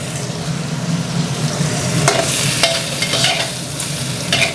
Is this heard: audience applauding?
no